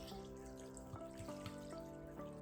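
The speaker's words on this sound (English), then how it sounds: "we'll take the vinegar and we're gonna pour it in there just enough to cover it" Vinegar pours over shredded vegetables in a kitchen, a faint steady trickle of liquid running for a couple of seconds with soft splashy flutters, quiet and without talk.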